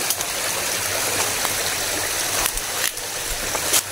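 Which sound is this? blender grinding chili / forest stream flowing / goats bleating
forest stream flowing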